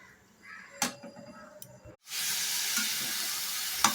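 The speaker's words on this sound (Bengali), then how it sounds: "গ্যাসটা বাড়িয়ে এরকমভাবে ভাজতে হবে। এটা আরও ভাজা হবে" Shredded cabbage frying hard in a pan over a high gas flame, a loud steady broadband sizzle that surges in after a brief quiet stretch of lighter clinks and stirring, with a sharp utensil tap near the end.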